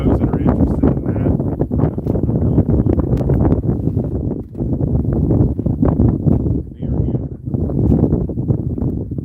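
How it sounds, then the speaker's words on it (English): Strong outdoor wind buffets the microphone in a steady, loud, rumbling roar that gusts almost continuously, dipping only briefly twice. "This wind is blowing up."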